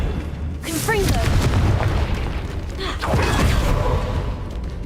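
A Confringo explosive spell in Hogwarts Legacy goes off as a loud boom followed by crackling burst effects, with a second blast a couple of seconds later and a sigh-like vocal sound in the mix.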